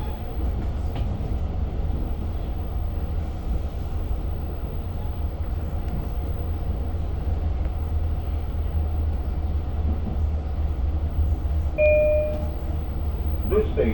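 Long Island Rail Road train riding from Oyster Bay toward Jamaica, a steady low rumble of the moving railcar heard from inside, continuous and fairly loud, with brief tonal squeals near the end.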